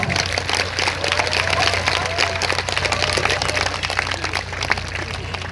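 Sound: audience applause welcoming the conductor

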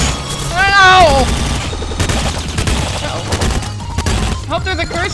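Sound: gunfire from enemies in the video game Nuclear Throne

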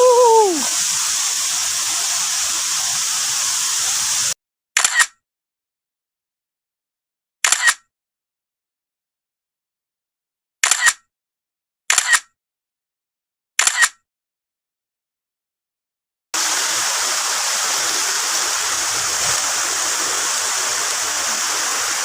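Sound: waterfall

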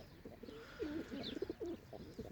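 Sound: birds cooing in a garden loft

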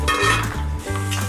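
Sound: batter-coated sweet corn frying in hot oil

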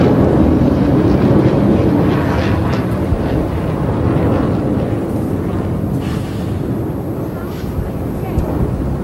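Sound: military aircraft and helicopters flying over

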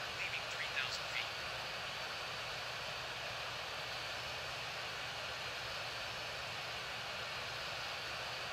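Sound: Jet Airways airliner taking off at Heathrow, Real Flight Simulator video game

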